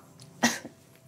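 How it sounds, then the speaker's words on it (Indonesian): A woman gives a single short, moderately loud cough, a quick burst followed by a faint trailing breath in an otherwise quiet room. "Lo dari tadi batuk-batuk mulu loh."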